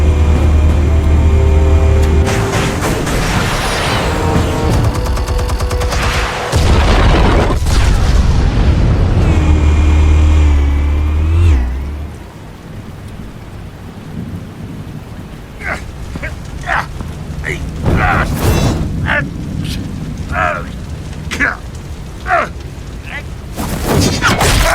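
Explosives detonating in Batman: The Telltale Series set off heavy, loud rumbling booms that dominate the first half, then fade into quieter scattered crackles and debris-like clatter.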